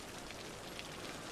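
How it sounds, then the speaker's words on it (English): Steady rain falls in the Cities: Skylines city-building game, a soft, even hiss with no breaks, quiet throughout. "so we've got some rain coming in"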